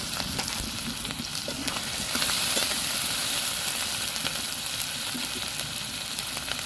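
Onion paste and chopped tomato fry in hot oil in a village kitchen, making a constant close sizzle broken by scraping stirs and small spattering pops; no one speaks.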